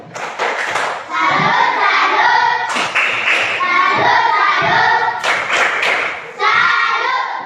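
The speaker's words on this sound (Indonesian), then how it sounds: "Tepuk salut untuk Nani" Schoolchildren in a classroom perform the 'tepuk salut' clapping routine, loud rhythmic bursts of group claps in patterned groups, with children's voices chanting between and over the claps.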